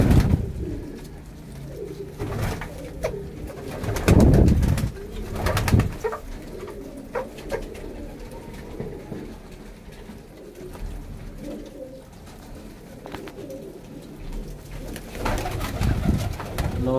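Pigeons coo repeatedly in a loft of racing birds, soft throaty calls close by over a rustling background, with occasional wing flaps and louder bursts.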